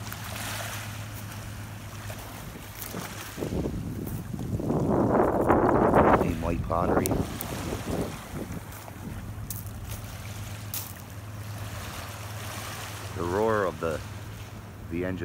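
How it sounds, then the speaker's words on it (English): Lobster boat engines drone steadily out on the Atlantic Ocean off a Cape Breton Island beach. The low hum runs under wind noise and surf, with a louder wash of waves near the middle. "The engines on the lobster boats on the Atlantic Ocean."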